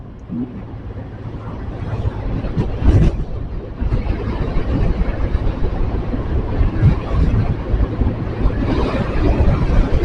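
Roaring wind buffeting the microphone while riding in a fast car along a road near a beach, a loud, continuous rushing noise with a brief louder gust near three seconds.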